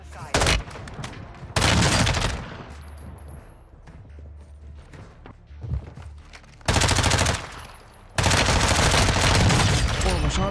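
M13 rifle fire in Warzone 2, with loud sustained automatic bursts near 0–0.5, 1.5–2.5, 6.7–8 and 8.3–10.5 seconds and quieter game noise and scattered shots between them.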